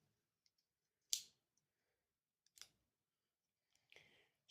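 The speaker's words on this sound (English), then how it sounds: "Scissors." Pocket knife scissors open and click several times, sharp isolated clicks spaced about a second apart in a quiet room.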